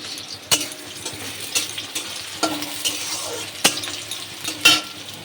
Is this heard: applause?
no